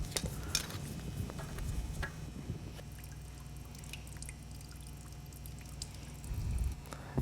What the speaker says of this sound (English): go ahead and drain whatever's left in that float bowl